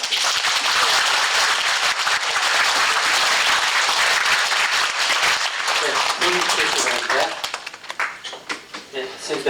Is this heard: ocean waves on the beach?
no